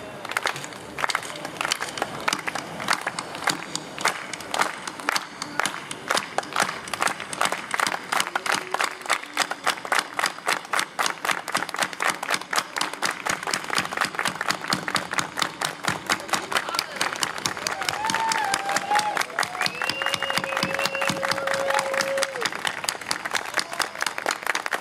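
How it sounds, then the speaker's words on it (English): A crowd of farm workers keeps up a long, rhythmic slow clap of evenly spaced, sharp beats, with voices and a few whoops rising over it toward the end. "First, we start a slow clap."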